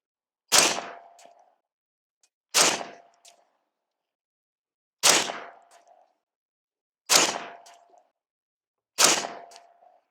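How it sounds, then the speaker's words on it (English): An unsuppressed .30 caliber rifle fires 220 grain subsonic rounds: five loud, sharp cracks spaced about two seconds apart, each with a short fading echo, in the open, with no talk. "So here we have some 220 grain subsonic ammunition."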